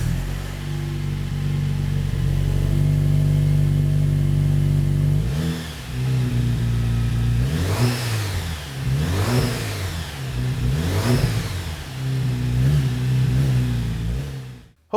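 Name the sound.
Jeep JL Wrangler with Borla S-Type exhaust running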